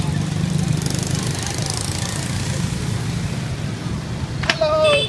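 Scooter engine puttering steadily through an evening street in Hoi An, a continuous low drone with broadband road noise, then a brief burst of a higher tonal sound near the end.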